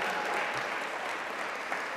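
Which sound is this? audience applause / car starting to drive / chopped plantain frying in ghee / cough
audience applause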